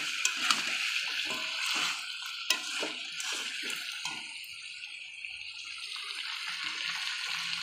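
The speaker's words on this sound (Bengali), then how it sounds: "এবার আমি জল দিয়ে দেবো।" Water is poured into a pan of browned chicken and potato curry, a steady pouring and splashing wash broken by a few light clinks of utensils against the pot, close and moderately loud with no talking.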